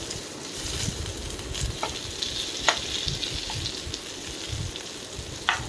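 Whole potatoes frying in spiced oil give a steady, close sizzle with faint stirring clicks throughout, no voices.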